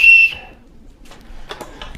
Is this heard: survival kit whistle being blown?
yes